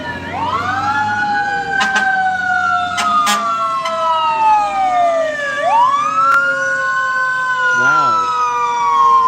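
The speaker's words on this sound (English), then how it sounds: "Oh, it's a fire truck." An LAFD fire truck siren wails on a city street, rising and falling in long sweeping tones with a rapid yelping burst near the end, loud and close over traffic rumble and occasional horn blasts.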